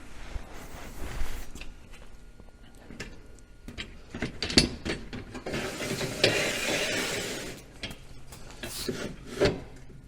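Heavy-duty bumper sliding onto a Ski-Doo Expedition snowmobile, heard as a series of close scraping, clunking mechanical rattles and clicks that come in irregular bursts and grow denser midway, with no talking.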